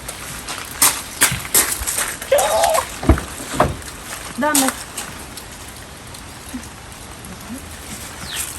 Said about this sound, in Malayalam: മഴ പെയ്യുന്നുണ്ട്